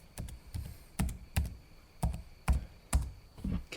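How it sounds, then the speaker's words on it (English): Fast typing on a laptop keyboard, close up: bursts of crisp key clicks with heavier thumps roughly every half second, steady and fairly quiet with no talking. "You like the sound of those nice laptop keyboards?"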